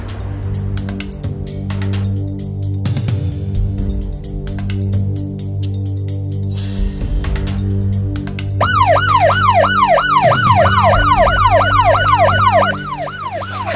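A loud police siren in a Filipino drama scene: a low tone and rumble give way to a rapidly wailing, close siren sweeping up and down, with no talking.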